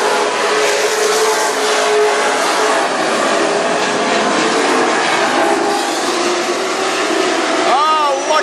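WISSOTA Super Stock race cars roar around the North Central Speedway oval in a loud, continuous engine drone with passing revs. An announcer's voice calls the race over the noise.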